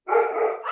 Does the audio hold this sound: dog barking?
yes